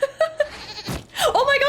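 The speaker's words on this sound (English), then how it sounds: "He was tossing goats at the building?" Goat bleats from the Dragon Age Inquisition video game: three short, wavering cries close together, then a thump and a longer, louder bleat rising and falling toward the end.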